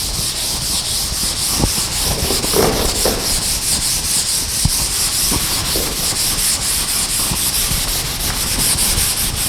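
Duster rubbing out the upper part of a classroom board during a physics lecture, a continuous rhythmic scrubbing and scraping, loud and close, with an occasional light knock and no voices.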